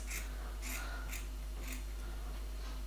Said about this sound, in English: you want to cut strips going all the way down to where we marked the waist